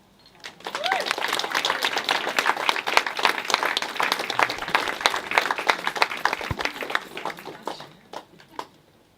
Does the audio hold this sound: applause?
yes